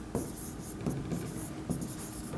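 A pen scratches across paper as an accounting entry for a purchase account is written, a close, continuous scratching with short strokes and small pauses.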